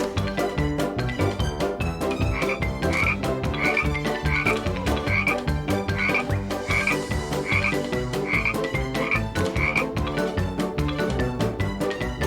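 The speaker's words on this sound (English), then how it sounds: "Frog." A frog croaks in a steady series of short, evenly spaced calls over continuous lively background music.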